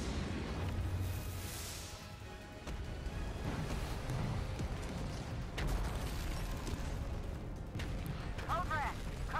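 Explosions in the video game Stellar Blade, heavy booming blasts and rumbling bursts going off repeatedly with a player talking over them.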